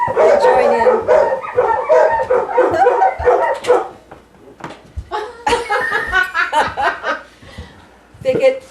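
Dogs bark and yowl repeatedly in an excited chorus, reacting to distant coyotes, mixed with people laughing and talking nearby.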